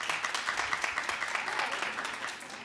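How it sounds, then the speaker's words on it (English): Small television studio audience clapping at a talk show, a short, moderate burst of mixed hand claps with no voices over it, tapering slightly at the end. "clap if you're gonna watch"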